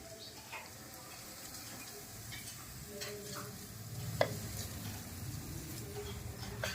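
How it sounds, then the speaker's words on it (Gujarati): Khaman being tempered with sesame seeds, mustard seeds and green chillies in hot oil gives a soft, steady sizzle with faint crackles and pops, low in level throughout. "ખમણનો મસ્ત વઘાર થઈ રહ્યો છે"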